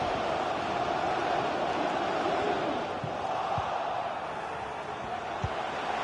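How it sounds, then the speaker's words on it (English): Football stadium crowd in the FC 24 video game during an Arsenal match, a steady dense roar of massed voices and chanting, loud and continuous throughout with a few brief thuds. "Being egged on by the crowd."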